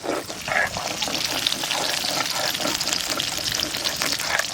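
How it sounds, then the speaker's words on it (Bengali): Katla fish slowly fries in hot oil in a pan, giving a continuous crackling sizzle with small spattering pops, close and steady throughout. "মাছটা আস্তে আস্তে জাল দিয়ে ভেজে নিতে হবে।"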